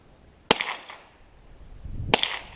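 A Ruger SR22 .22 rifle fires at a target on a lake, producing two sharp, crisp cracks about a second and a half apart, each followed by a short echoing decay outdoors.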